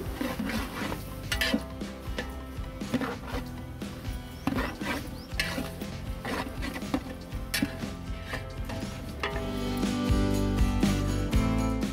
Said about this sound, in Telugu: బాగా ఒకసారి కలుపుకోవాలి